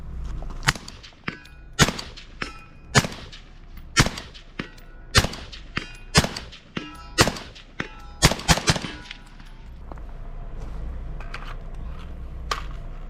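An Evolve Weapons Systems E-15 rifle fires strings of sharp, loud shots outdoors, in irregular bursts of several reports each with ringing decay, and the firing stops near the end, leaving quieter background.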